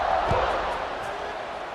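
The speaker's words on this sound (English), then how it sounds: "this crowd is buzzing after that last score." Stadium crowd in the EA Sports College Football 26 video game, buzzing before a kickoff after a score: a steady, dense roar of many voices that holds at an even level throughout.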